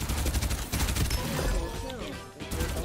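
Gunfire in the video game Farlight 84, rapid bursts of shots in a dense, busy mix, with voices audible underneath.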